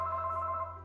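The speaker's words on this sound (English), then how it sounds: "the phone rings" A telephone rings in a steady electronic tone, close and moderately loud, with no talking over it.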